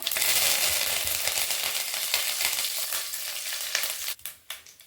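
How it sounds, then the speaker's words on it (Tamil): Sliced shallots and onion sizzle loudly in hot oil with fennel seeds, cinnamon, cloves and curry leaves. The frying hiss is steady close up, then eases off, and a few clinks of a utensil against the pan sound near the end. "வெங்காயம் வதக்கிக்கலாங்க"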